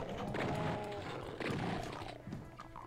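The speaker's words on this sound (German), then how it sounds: "es grunzt direkt neben uns hier" A monster in the video game Doom grunts nearby in the Spawning Vats level, with low growling roars that rise and fall in a few swells, fairly close and alone.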